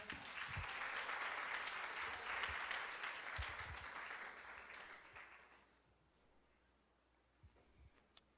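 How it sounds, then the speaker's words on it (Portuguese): Church congregation applauding during a missions service, a broad wash of clapping from many people that holds steady for about five seconds, then fades away into near silence with a few faint knocks. "Você pode aplaudir ao Senhor."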